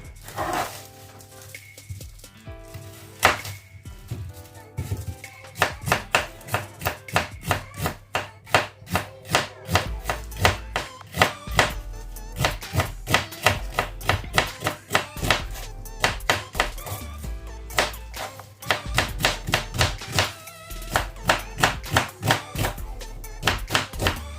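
A knife chops green pepper and onion on a board for a roasted chicken and potato dish, with steady, rapid thuds repeating close by, sometimes quickening into dense runs, and no voices.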